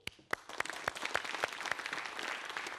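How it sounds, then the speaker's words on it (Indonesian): Studio audience applauding on a quiz show, a dense patter of many hands with a few sharp, distinct claps standing out, building quickly and holding steady. "Tepuk tangan untuk teman-teman juga yang semangatnya luar biasa."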